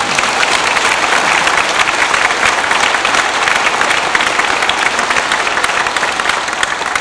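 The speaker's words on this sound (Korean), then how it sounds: "복사들 위해서 박수 한번 쳐야 됩니다." A church congregation at a Korean Easter Vigil Mass applauds the altar servers with loud, steady, dense clapping that fills the hall for several seconds without pause.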